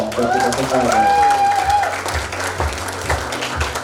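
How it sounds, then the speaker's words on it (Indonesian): Applause from an audience at a handtools launch event in Indonesia, crowd clapping that rises under a voice on a microphone early on, then continues with scattered claps and thumps. "Tepuk tangan dulu dong."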